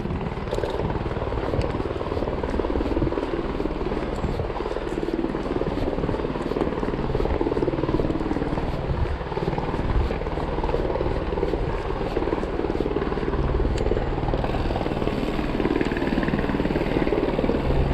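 A helicopter's rotor thumps and its engine roars steadily and loudly for the whole stretch, sounding close by, near a helipad in Whistler, British Columbia.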